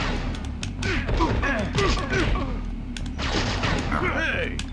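Rapid gunfire from enemies in the Spider-Man N64 video game, a dense run of sharp cracks and impacts under continuous speech and game sounds.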